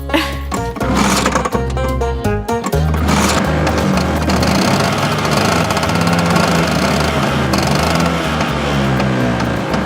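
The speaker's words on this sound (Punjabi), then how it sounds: "ਅੱਜ ਦਾ ਸਕੂਟਰ ਵੀ ਨਾ ਅੰਗਰੇਜ਼ੀ ਬੋਲਦਾ" A scooter engine runs loud and close with a rapid, buzzing, stuttering rhythm. It revs in short bursts at first, then settles into a steady idle that continues throughout with no speech.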